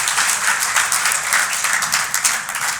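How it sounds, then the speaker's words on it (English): A big round of applause from guests at a charity golf tournament event, many people clapping loudly and steadily close by, without speech. "Let's give Ted one more big round of applause."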